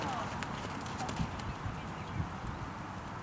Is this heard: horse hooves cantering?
yes